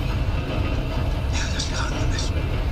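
A stolen train rolls along in the video game Red Dead Redemption 2, a steady low rumbling drone with a brief higher hiss partway through, and a person talks over it.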